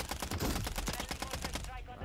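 Rapid bursts of automatic gunfire rattle through a Call of Duty Warzone match in Modern Warfare III, dense and continuous over about two seconds while a player's voice talks over the shooting.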